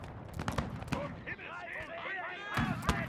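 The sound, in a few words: artillery fire in Rise of Empires Total War video game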